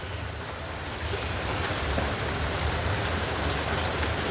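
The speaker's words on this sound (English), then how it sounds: "Torrential downpours now." A torrential downpour in a severe thunderstorm drums hard and steadily on nearby surfaces and a gazebo overhang, a loud, unbroken hiss of rain that thickens slightly after the first second.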